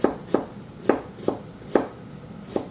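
Knife chopping an onion on a cutting board: six sharp, evenly spaced thuds, close and clear, with no talk.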